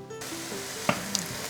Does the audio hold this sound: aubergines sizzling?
yes